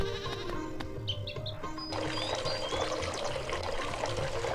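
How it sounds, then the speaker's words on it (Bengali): Water being filled from a hand pump in the Bangladeshi video game Meena 2, a steady pouring wash running throughout alongside game music, with goat bleats and chirping effects in the mix. "এখন আবারও কল চেপে আমরা পানি ভরবো"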